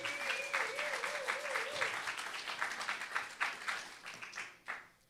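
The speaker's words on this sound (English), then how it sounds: "Please give them a round of applause." Audience members at a community event applaud honorees, their clapping forming a moderate wash with scattered louder claps. A brief sustained tone sounds during the first two seconds, and the applause tapers off toward the end.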